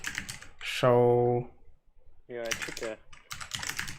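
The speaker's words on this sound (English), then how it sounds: "I will type it on my laptop keyboard." Typing on a laptop keyboard while configuring a WireGuard VPN on NixOS, a soft run of key clicks under and between a person talking.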